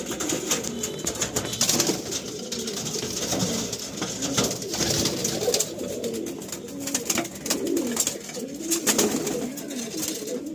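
Pigeons kept in a loft, cooing in overlapping low, throaty calls that repeat continuously from several birds nearby, with wing and shuffling noises mixed in and no talk.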